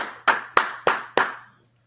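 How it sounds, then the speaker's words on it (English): Four sharp, evenly spaced hand claps ring out close and loud, each followed by a short decay, then quiet. "you clapping"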